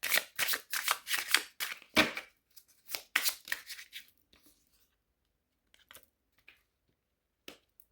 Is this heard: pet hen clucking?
no